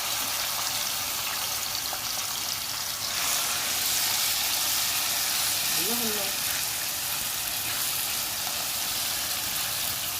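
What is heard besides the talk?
liver frying in hot oil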